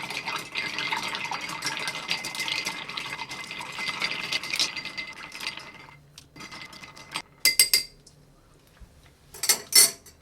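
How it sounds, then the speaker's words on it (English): Ice clinks and rattles steadily as a cocktail is stirred in a mixing glass. The stirring is continuous for about six seconds, followed by a few sharper, louder knocks of ice. "Then I'm gonna stir this until it's nice and chill"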